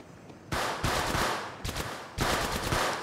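Bursts of rapid automatic gunfire in the video game Apex Legends, two long volleys separated by a short pause, loud and close with a crackling, clattering texture.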